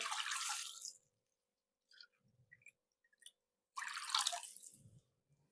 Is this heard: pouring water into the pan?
yes